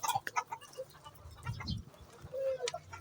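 Chickens kept at home in a yard cluck and chirp in short, soft bursts, with faint low rustling around them.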